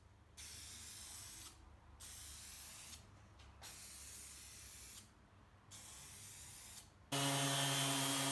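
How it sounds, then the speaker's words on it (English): Clear varnish sprays from an aerosol can onto rusty metal ladder rungs in five steady hissing bursts separated by brief pauses, followed by a louder different tone at the end. "preserve the look by spraying them with clear varnish"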